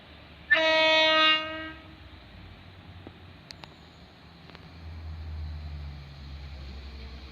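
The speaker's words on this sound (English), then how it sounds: "comes another train." At East Malling station a train sounds a loud, brief horn blast near the start, then its low rumble builds and rolls on steadily as it approaches and passes.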